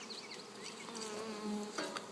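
Honeybees drone continuously in an opened beehive during a mite check with a mesh screen, a close and steady buzzing with wavering pitch and no speech.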